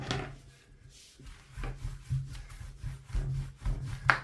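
A wooden rolling pin rolls thin börek dough sheets dusted with a flour-starch mix, making soft rhythmic rubbing and thudding strokes, close and moderately quiet, with no voices.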